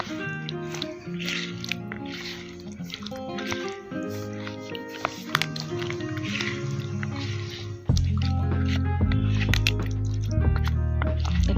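Cauliflower florets worked by hand into a wet spice paste for a Rani Gondhoraj fulkopi marinade, giving soft squishing and dripping sounds under steady tonal background music.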